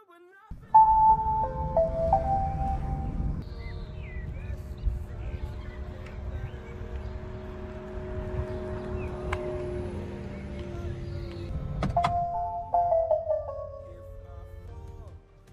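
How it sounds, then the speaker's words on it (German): The electric soft top roof of a 2021 Fiat 500e Cabrio retracts fully with a steady low motor hum and whine, chimes and tones at the start and end, and no talking. "Wenn man den Knopf nochmal drückt, dann fährt das Dach komplett runter."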